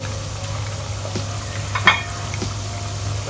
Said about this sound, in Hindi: बस हमें इतना ही फ्राई करना है, इतना भी नहीं कर देना है कि वो ब्राउन हो जाए